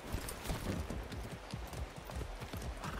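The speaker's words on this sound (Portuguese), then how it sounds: "Cavalo instantâneo." Horse hooves clip-clop in the video game Far Cry 6, a quick steady gallop rhythm of repeated thuds heard alone and fairly close.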